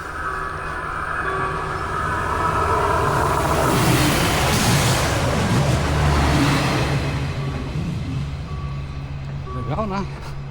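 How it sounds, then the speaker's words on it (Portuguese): A passenger train passes on a rainy day with a steady rolling rumble that swells and fades, plus a brief horn-like tone near the end, while people talk nearby. "Esse é o trem que faz"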